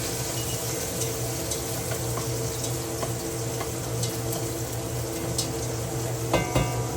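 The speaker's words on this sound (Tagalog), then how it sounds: "mainit na po, ilagay po natin ang garlic" Garlic sizzles in a hot pan with a steady, soft frying hiss, broken by scattered small ticks and pops and a couple of louder clicks near the end. No one speaks.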